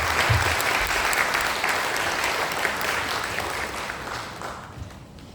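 Sustained audience applause welcoming the mayor of Goyang Special City to the stage for his second-anniversary vision presentation, loud, dense clapping from a large crowd that gradually thins and fades toward the end.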